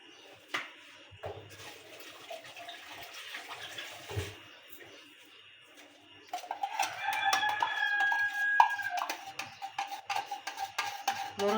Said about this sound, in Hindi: हर वीडियो में आप लोग मुर्गे की आवाज़ भी सुन रहे होते हैं।